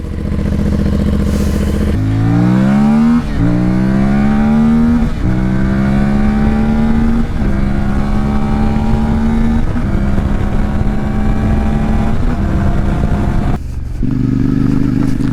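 A CFMOTO MT450 motorcycle engine with stock exhaust revs up repeatedly, each pull rising in pitch before dropping back, loud and close with a throaty exhaust note.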